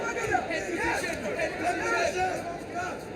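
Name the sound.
crowd cheering at a Bellator MMA fight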